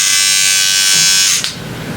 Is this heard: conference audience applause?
no